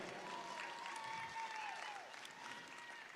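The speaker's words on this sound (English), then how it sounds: "Give them a big round of applause." Faint, distant crowd applause in a cattle show arena at a national junior Brahman show, a soft continuous patter of many hands that keeps going throughout under a thin tonal whine.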